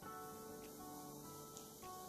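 Baking soda dropped into a bowl of vinegar fizzes with a steady, close hiss of bubbling, sustained for a couple of seconds with no talking.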